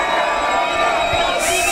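A crowd at a lively evening show cheers and shouts with applause mixed in, loud and dense through a brief burst, with shrill whoops rising near the end.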